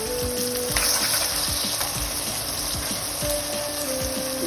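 Beetroot and butter dropped into a hot pan set off a steady, close sizzle and hiss, with soft clatters of food landing, continuing without talk.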